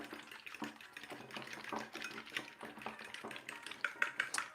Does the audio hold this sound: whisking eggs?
yes